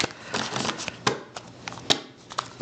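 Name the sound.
shuffling a deck of cards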